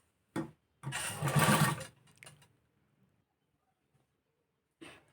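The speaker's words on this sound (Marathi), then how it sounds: "तर या पद्धतीने आपण शिलाई मारून घेऊ" Sewing machine stitching three-piece princess-cut blouse fabric: a brief knock, then about a second of steady, close motor-driven stitching, followed by faint rattles and a short final burst, with no talking.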